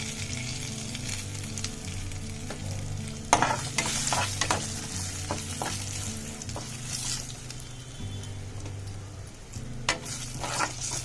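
Garlic, dried red chillies, curry leaves and asafoetida sizzle steadily in hot oil for a tempering, with occasional stirring clinks of a spoon against the pan, close and continuous without talk.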